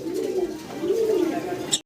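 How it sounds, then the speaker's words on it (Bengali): Racing pigeons coo close by in a short, low, rolling warble with a rising and falling tone, heard alone. "দর্শক আবারও রেসার কবুতর দেখতেছি আমরা"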